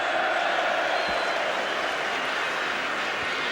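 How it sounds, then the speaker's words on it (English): Crowd of West Ham fans cheering at a 1979–80 football match against Arsenal, a broad, steady roar filling the ground throughout, distant and continuous. "there's a cheer from the West Ham fans for Alan Devonshire"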